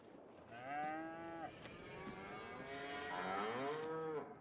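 Cows on a farm in the Roblox video game moo repeatedly, long low drawn-out calls that overlap one another in a steady chorus, with no talking over them.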